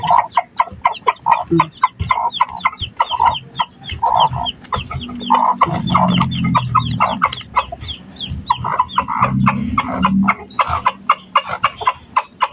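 Hens cluck steadily in a close, busy chorus, with short rhythmic clucks overlapping and low murmuring calls underneath, no people talking.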